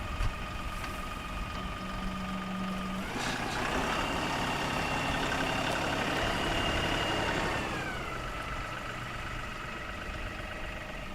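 LS tractor engine running steadily while digging potatoes in a field, a continuous mid-distance drone that rises in load for several seconds before settling back to idle.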